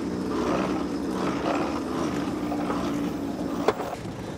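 Crew of eight grinding a yacht winch by hand to hoist a massive mainsail at sea, a steady rumbling, ratcheting grind with wind and water noise, one sharp clack near the end.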